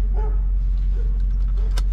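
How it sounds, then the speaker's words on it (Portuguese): Three dogs at a large house in Paraguay let out a few short barks and yips, faint and somewhat distant, over a steady low hum, with no talking. "Tá porra, três cachorros,"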